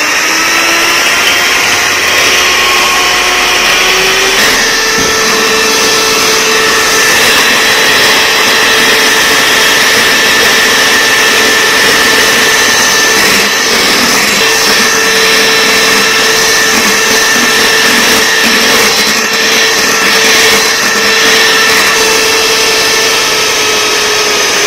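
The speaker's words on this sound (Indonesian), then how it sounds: "Ini dimixer sampai mengembang putih ya." Electric hand mixer whirring steadily as it beats two eggs with 100 grams of granulated sugar until thick and pale, a continuous loud motor drone with a slight change in pitch early on, no talking.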